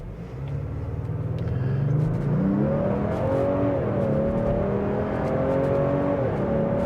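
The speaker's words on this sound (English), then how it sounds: "we're going to give it a test for some acceleration and see how we do" A 2025 Ford Explorer SUV's 2.3-liter EcoBoost turbo engine accelerates hard, its pitch climbing steadily through a gear change into a sustained higher roar, with no voices.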